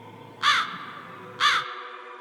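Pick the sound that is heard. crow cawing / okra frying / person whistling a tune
crow cawing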